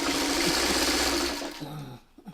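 A sewing machine stitches a purple leader ender while piecing a quilt block, a steady close motor whir that runs for over a second, then slows and stops, followed by faint handling sounds.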